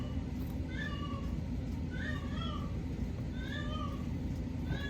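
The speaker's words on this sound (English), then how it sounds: "I hear my cat." A Siamese cat meows indoors, about four drawn-out, fairly close calls spaced evenly over a steady low background hum.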